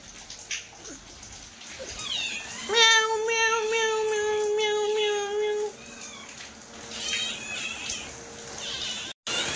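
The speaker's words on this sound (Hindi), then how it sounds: "बिल्ली" A cat meows in a long, clear, drawn-out call lasting a few seconds, followed by fainter wavering meows, close and prominent over a quiet room background.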